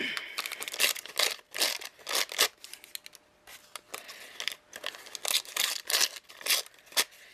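Paper being torn up by hand for a vintage tag, several quick ripping strokes with crinkling between, close and clear, in irregular bursts across a few seconds.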